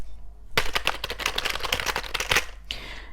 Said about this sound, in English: This sounds like somebody is literally just walking across the keyboard. It's extremely loud.